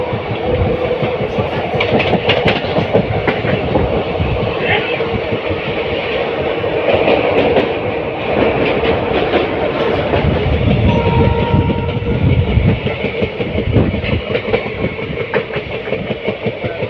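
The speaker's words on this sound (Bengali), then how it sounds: "কার্ভ নিচ্ছে ট্রেনটা, বড় ভালো কার্ভ নিচ্ছে" A train rolls along the rails through a curve on a journey through the Dooars, a steady loud rumble with rhythmic clicking of wheels and faint metallic squeals, with no talking.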